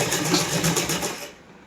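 A sewing machine runs a quick line of stitching along the edge of a salwar, just below the facing strip, with a brief, close, rhythmic whir that cuts off near the end.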